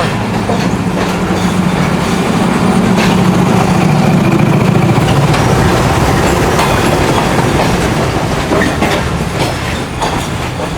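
The Karakoram Express pulls out of Karachi in a new rake, carriages rumbling loudly with rhythmic clickety-clack over the rails and engine noise under it, steady and close with no voices.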